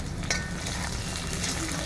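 Raw bay leaves sizzle in hot oil for a duck curry cooked over a wood fire, giving a steady, close, even crackle throughout with no talking.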